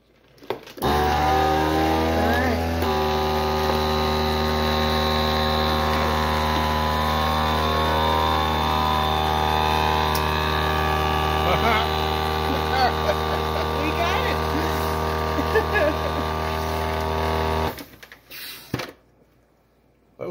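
A vacuum sealer sealing a bag of sweet corn for freezing, a steady loud motor hum running for about seventeen seconds before cutting off, followed by quieter handling noises.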